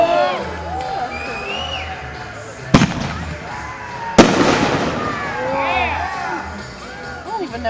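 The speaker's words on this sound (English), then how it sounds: "The fireworks are going off." Fireworks going off outdoors at an event, with two sharp loud bangs among whistling, crackling bursts, while a crowd chatters and people talk nearby.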